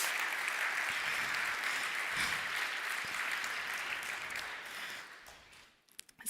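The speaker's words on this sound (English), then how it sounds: "This is the time where you can clap once again." Conference audience in a hall clapping steadily, a dense even patter that gradually thins and fades out near the end, followed by a few scattered sounds.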